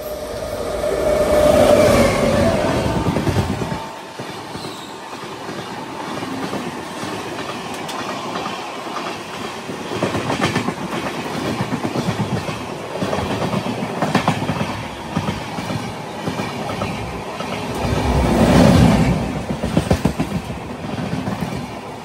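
The Sabari Express, with upgraded coaches, rushes past on the adjacent track while overtaking at a random station stop. A loud, continuous rumble and rhythmic clickety-clack of wheels sound close by, with no talking.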